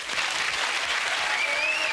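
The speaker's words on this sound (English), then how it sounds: "Give him a nice clap, folks." Studio audience applauding on a TV game show, a steady, full wash of clapping from a crowd, fairly even in level, with a faint tonal whistle rising over the final moments.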